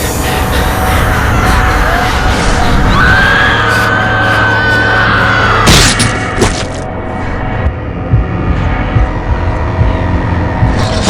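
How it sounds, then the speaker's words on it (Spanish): In the video game Nosferatu: The Wrath of Malachi, a woman's scream rings through a castle. A sustained high cry rises over dense, loud game ambience, followed by a sharp burst and a rumbling tail. "escucha un grito de alguien conocida por todo el castillo"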